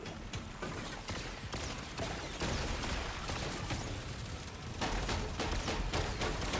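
Rapid automatic fire from the bull shark gun in Deep Rock Galactic: Survivor, a steady dense stream of shots running through the whole stretch among busy game effects, fairly loud and close.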